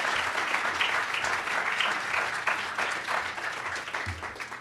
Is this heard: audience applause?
yes